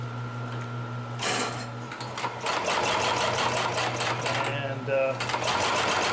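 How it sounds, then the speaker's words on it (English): A Consew 733R-5 industrial sewing machine hums at idle, then runs through fabric with a fast, steady mechanical stitching clatter, close and loud, while someone talks over it. "Now we're going to sew on to another piece here."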